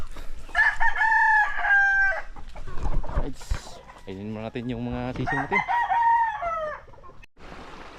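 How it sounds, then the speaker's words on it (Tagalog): Roosters crowing loudly and close, several long cock-a-doodle-doo calls, with chickens clucking in between on a small farm during feeding; someone talks briefly over them. "tapos na tayong magpakain ng manok"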